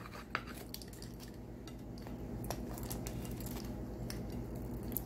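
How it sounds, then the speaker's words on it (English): A knife crunches through the crispy crust of a freshly baked supreme meat pizza, close scraping and crackling with light clinks against the pan, steady and fairly quiet, with no talking. "I'm about to cut down into this. Cut myself a nice little slice. Listen to that crust, that crispy crust."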